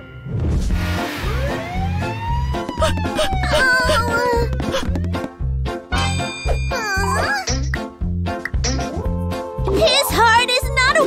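A cartoon ambulance siren wails over bouncy background music, loud and continuous with rising and falling tones.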